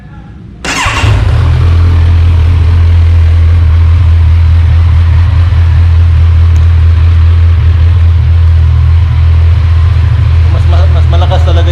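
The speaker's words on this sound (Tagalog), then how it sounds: "Pakinggan po natin ang tunog ng original na stock muffler." A stock-muffler Kawasaki Z1000R motorcycle starts with a sharp burst, then settles into a loud, steady, deep idle that rumbles close by for the rest of the span.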